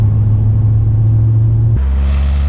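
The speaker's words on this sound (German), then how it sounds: "Schaut, wie ich jetzt hier im sechsten Gang bei 800 Touren aus dem Ort raus auf 100 beschleunige." Alpina B8 pulling away in sixth gear from 800 rpm, a loud, close, deep low engine drone that drops and shifts in tone partway through, with no talking.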